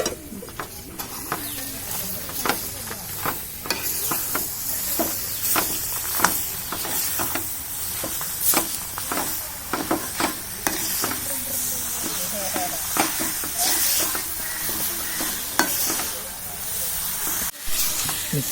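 Tapioca, jaggery and coconut are stirred together in a pan, giving repeated scraping clicks in an uneven rhythm over a low sizzling hiss, with birds cooing faintly in the background.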